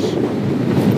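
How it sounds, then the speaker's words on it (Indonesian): Strong wind buffets the microphone while riding a motorbike on a hot asphalt road in Sulawesi, between Parepare and Pinrang. It makes a dense, steady low roar with no speech. "Lumayan seger sih kalau kena angin kenceng."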